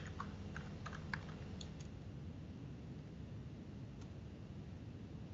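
Typing on a computer keyboard, a few light clicks near the start and one more later over a steady hiss, with no talk.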